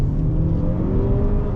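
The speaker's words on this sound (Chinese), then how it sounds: "全油门" A 2022 Ford Mondeo 2.0T under full throttle, a steady, loud engine drone rising in a low rumble with no let-up, heard from inside the cabin.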